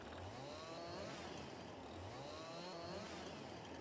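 A chainsaw cuts trees in Farming Simulator 22, with a steady engine drone whose pitch rises and falls in repeated cycles as it revs. It plays continuously and fairly quietly, with no talking.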